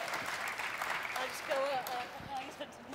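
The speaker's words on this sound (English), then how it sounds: "Applause now." Audience at a Popeye make-up demonstration breaks into applause, a steady patter of clapping with voices and laughter mixed through it.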